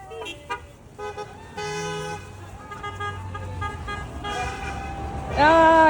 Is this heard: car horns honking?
yes